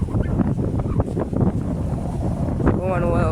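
Strong wind at the seashore buffets the microphone in loud, gusty rumbles, and a voice is briefly heard through the roar near the end.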